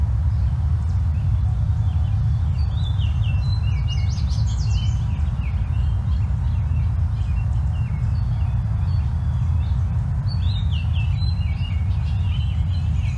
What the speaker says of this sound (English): Got the Oriole singing still.